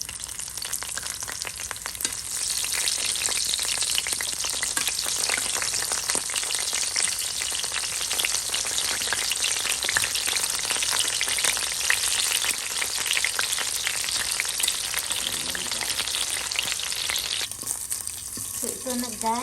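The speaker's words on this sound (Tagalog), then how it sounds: "ang lutuan yun na naman ang ating iprituhan ng talong" Eggplant fries in a pan, with a loud, steady crackling sizzle that continues nearly unbroken, close and alone, easing off slightly near the end.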